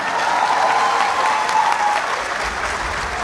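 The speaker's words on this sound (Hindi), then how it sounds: "इनके लिए बहुत भरपूर तालियां।" Full, steady audience applause at a Urdu poetry recital, a dense sustained wash of many hands clapping with no break, loud and close throughout.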